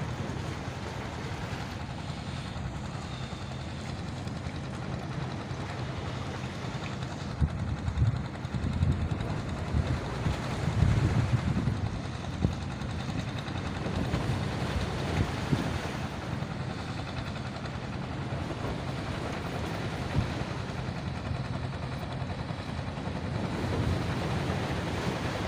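Pilot boat at Tanjung Priok harbor with waves, steady broadband water and engine rush for the full length, buffeted by wind noise, no talking.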